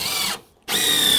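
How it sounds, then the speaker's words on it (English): A power drill drives a screw into deck boards in two loud, close whirring bursts split by a brief pause. "keep the contact between the drill bit and the screw with your left hand"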